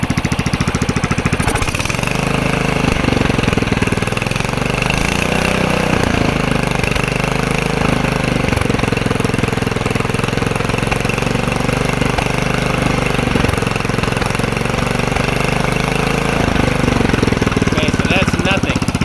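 A homemade rock mower's engine runs loud and rough for the whole stretch, a steady knocking idle with a clattering, jackhammer-like edge; someone speaks over it at times.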